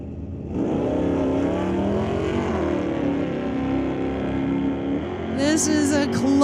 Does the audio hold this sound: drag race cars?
yes